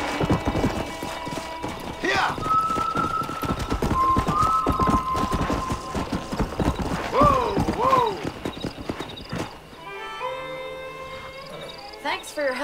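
In Red Dead Redemption, horse hooves gallop rapidly and rhythmically, with a whinny partway through, over a busy background of other game sounds.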